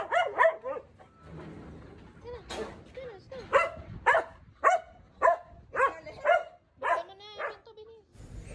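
A dog left alone for an hour greets its returning owners with repeated yelping barks and whimpers, about a dozen sharp calls in an uneven rhythm, close and loud.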